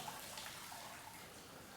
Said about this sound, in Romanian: noi introducem mopul în apă și soluție